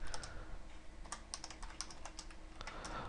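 Typing on a computer keyboard during a C++ Qt programming session, a quick close burst of uneven key clicks over faint room hum, no speech.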